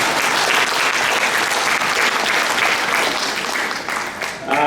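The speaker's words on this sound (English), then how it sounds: "How about I give a round of applause?" Sustained applause from an audience at an awards ceremony, loud and dense throughout, with some crowd murmur and a faint voice mixed in near the end.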